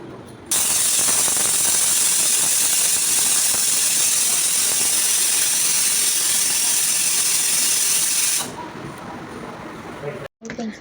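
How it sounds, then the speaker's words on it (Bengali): A pressure cooker cooking bhuna khichuri lets out one loud, steady, hissing whistle that runs unbroken for about eight seconds, then cuts off into quieter background clatter. "10 মিনিট জাল করে নেওয়ার পর পরে এটা সিটি দেবে আর আমি এটা দুইটা সিটি দেব"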